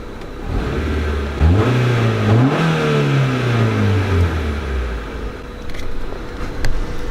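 A Honda Civic engine revs up and climbs in pitch, then winds back down, heard muffled from inside the cabin, loud and steady with no talking.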